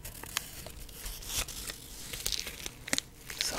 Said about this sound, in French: j'aime beaucoup le bruit des feuillages comme ça, artificiels.